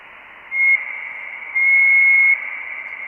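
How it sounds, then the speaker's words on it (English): A thin, steady whistled tone over an amateur radio satellite channel during an RS-44 pass, held in two stretches with a brief dip between, carried through static-like hiss. "Whoever's whistling, just talk. Don't whistle."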